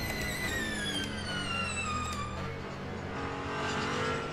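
A race car in the Le Mans Ultimate racing game drives with a steady whining engine note whose pitch glides down as it slows, then builds again, heard from inside the car with faint tire noise.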